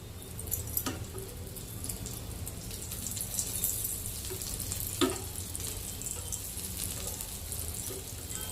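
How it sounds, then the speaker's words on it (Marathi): Coated bottle gourd slices fry in hot oil in a pan, giving a steady, close sizzle and crackle throughout with a few faint clinks and no talking. "पॅनमध्ये तेल तापलेलं आहे. आता मी आपली कापं सोडते त्याच्यामध्ये."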